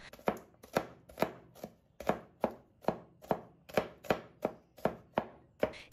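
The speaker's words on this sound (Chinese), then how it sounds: "剁成细小一些的蒜末。" A knife minces smashed garlic cloves finely on a board, landing about a dozen crisp, evenly spaced chops in a steady rhythm close by, with no voices.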